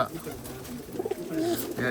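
Pigeons coo softly in a rooftop loft, a couple of low murmuring calls under faint background noise, with a voice nearby.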